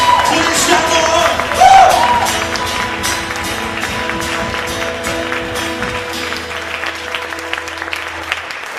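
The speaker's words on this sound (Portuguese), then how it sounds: "Uma salva de palmas ao Senhor por esse amor." A church congregation claps together in sustained applause that fades and thins out toward the end, with some voices mixed in.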